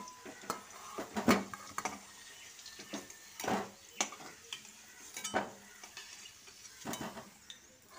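Red-fried potatoes being lifted out of hot oil in a pan, with scraping and clinks of a spatula against the pan in several sharp bursts over a low sizzle.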